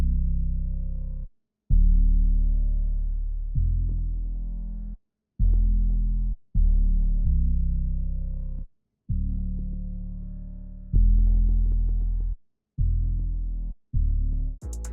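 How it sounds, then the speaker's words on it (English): Deep synth bass from a Serum sound bank following root notes, heard alone as a series of sustained low notes with brief silent gaps between them, ending on a quick bright burst. "I got this bass from a serum bank I'm working on"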